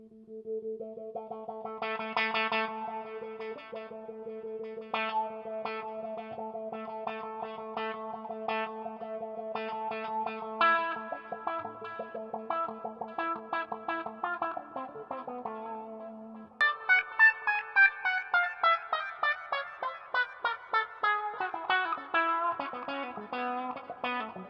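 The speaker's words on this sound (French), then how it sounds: "je gratte doucement, c'est comme si ma wah-wah elle était dans les graves, et dès que j'attaque fort, hop, ça monte dans les aigus" Electric guitar run through a wah-wah pedal that stays dark on soft strumming and sweeps bright on hard attacks, first as held chords with plucked notes, then as louder, rapidly picked bright notes with a falling sweep.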